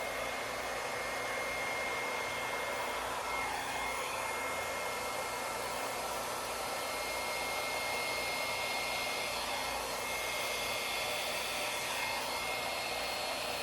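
A hair dryer blows in a continuous, steady hiss-and-whir, fairly faint and unchanging throughout, with no talking over it.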